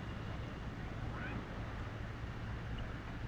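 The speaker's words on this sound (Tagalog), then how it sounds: "Lumalakas na yung alon." Sea waves at Hamriyah Beach wash in a steady, continuous rush, with low wind rumble buffeting the microphone throughout.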